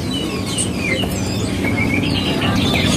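Birds chirp and whistle over a dense, busy background of many calls at a bird market, with chattering starlings sounding close.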